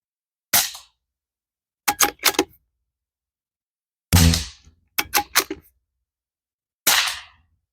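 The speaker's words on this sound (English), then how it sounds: "So I'm going to shoot a few just up into the dirt" A low-powered .22 bolt-action rifle fired outdoors into dirt gives three sharp, short cracks, spaced seconds apart, with clusters of metallic clicks and clacks from the bolt being worked in between.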